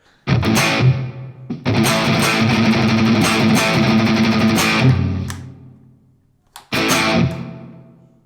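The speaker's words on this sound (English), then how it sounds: "There we go, plate reverb." An electric guitar through a Valeton GP-200X with plate reverb plays distorted chords and riffs, loud and close, with a long shimmering tail that decays into near silence before a final burst of playing.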